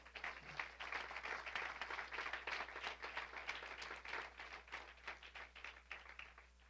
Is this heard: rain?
no